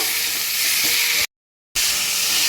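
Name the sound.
spices with salt sizzling while being stir-fried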